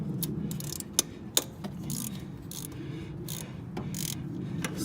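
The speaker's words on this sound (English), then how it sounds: "we need to use a ratchet with a number 12mm." A ratchet with a 12mm socket loosens bolts on a 1998 Honda Civic while removing the idle control valve, giving scattered close mechanical clicks and a few sharper knocks over a low steady background hum.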